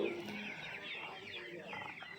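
Kadaknath chickens cluck nearby in a short, busy burst of throaty calls, with faint background noise.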